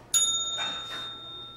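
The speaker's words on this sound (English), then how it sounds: "who will ring the bell when the time limit is up" A bell rings once to mark the end of a time limit during a middle school quiz competition, giving a bright, sharp strike and a long ringing tone that slowly fades.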